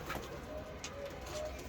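Pigeons coo softly in a fancier's loft, with a few low, repeated calls set back at middle distance against a constant faint background hiss and murmur.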